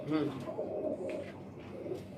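A pet pigeon coos in low, throaty, rolling notes close by, held by a pigeon keeper, while someone talks over it.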